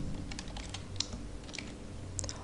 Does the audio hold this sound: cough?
no